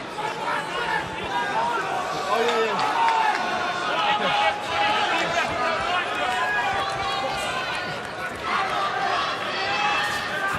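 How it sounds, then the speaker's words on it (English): A subdued crowd murmurs at a boxing match, a steady low hum of many voices filling the arena, while a commentator talks over it without pause. "Subdued sort of crowd."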